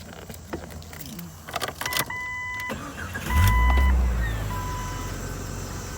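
A Jeep XJ engine cranks and catches at about three seconds, then settles into a low, steady idle close by, after a few earlier clicks and a jingle of keys.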